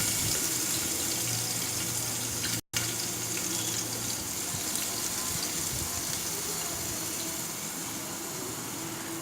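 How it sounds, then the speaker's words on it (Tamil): Onions sautéing in hot oil in a pressure cooker, a steady sizzling hiss that runs throughout, broken by one brief cut near the start, with no voices. "எண்ணெய் காஞ்சதுக்கப்புறம் பார்த்திங்கன்னா ஆனியன் போட்டுக்கிட்டு நல்லா வதக்கிடணும்"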